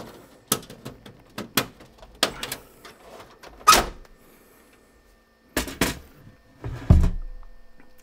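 Casing of a DEC VAX 4000 computer being opened: a series of sharp clicks and metallic clunks, loud and close, with a few hard thumps and pauses between them.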